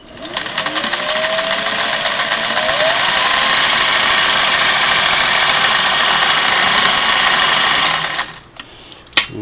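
Singer Model 404 sewing machine running a stitch test on fabric: a fast, steady mechanical whir and rapid needle chatter, close and loud, winding up and then stopping abruptly near the end with a few clicks.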